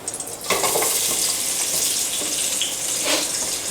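Sliced onions hit hot oil in a deep pot, a sudden loud sizzle that starts after a brief quiet moment and keeps up as a dense, steady close hiss with light stirring scrapes, no talking.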